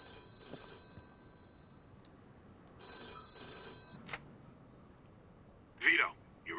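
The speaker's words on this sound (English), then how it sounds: "Answer the fucking phone. Where is the bloody phone?" A telephone rings in the Mafia II video game, with two faint bursts of ringing separated by a quiet stretch and brief louder sounds near the end, under low background noise.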